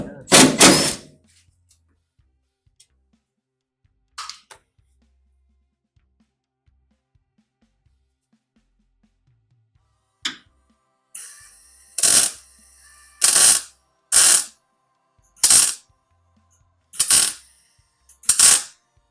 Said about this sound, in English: I'm gonna pull that screw out here.